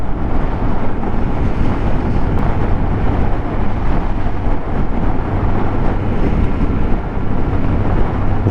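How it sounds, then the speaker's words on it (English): Strong gusty wind on open Dartmoor moorland buffets the microphone with a loud, continuous low roar and rumble, and no voices are heard. "It's really blustery up here."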